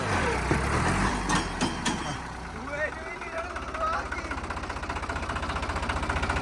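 A New Holland 3630 tractor engine runs nearby with a steady, rhythmic low chugging that grows clearer in the second half, while someone talks over it early on.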